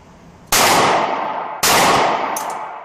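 Two loud, sharp pistol shots from a Springfield XDS fired at a B27 target, about a second apart, each cracking hard and ringing out briefly with no talking.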